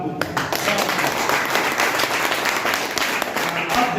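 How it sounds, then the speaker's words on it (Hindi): An audience at a talk on health problems such as diabetes and blood pressure claps steadily, a dense, sustained burst of applause that fills the space, loud and fairly close, with a voice faintly underneath. "तो आप लोगों की तालियां वाकई में शानदार है"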